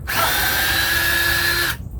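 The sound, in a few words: power drill drilling through boards with 3/8 inch bit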